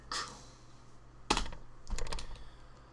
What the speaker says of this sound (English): Just smashing my keyboard now.